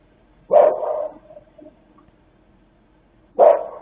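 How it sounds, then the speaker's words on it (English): Two single dog barks, moderately close, separated by a few seconds of quiet background. "There's Murphy barking, apparently."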